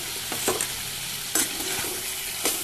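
Pointed gourd sautéing in spice paste in a pan, a steady sizzle broken by a few sharp scraping stirs, close and alone with no voices.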